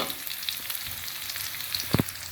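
Vegetables frying in oil in a pan until slightly wilted, for a chicken-liver lumpia filling: a soft, steady sizzle with a couple of brief utensil clinks near the end, and no voices.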